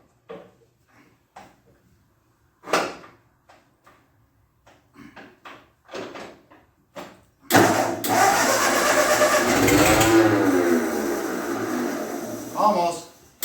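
A 1948 Ford 8N tractor engine cranking and catching after throttle and choke are set, roaring into a loud, steady idle after a few clicks and knocks, with someone talking briefly beforehand.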